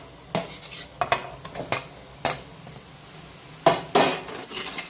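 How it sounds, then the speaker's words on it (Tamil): Boiled potatoes are stirred into masala in a pan with a metal spoon for aloo paratha filling, giving a series of sharp, irregular scraping and clanking strokes over a faint sizzle, with no voices. "இந்த மசாலோட உருளைக்கிழங்கை நல்லா மிக்ஸ் பண்ணி விட்டுக்கலாம்."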